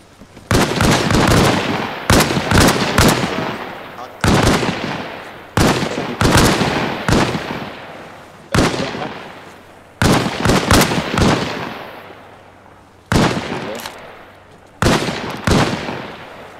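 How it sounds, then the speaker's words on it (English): Rifle shots at a firing range in Arma Reforger, many loud sharp reports from several shooters in small clusters, each shot ringing out with a trailing echo and short pauses between groups. "once you completed your 3 rounds, go on in prone, repeat 3 shots"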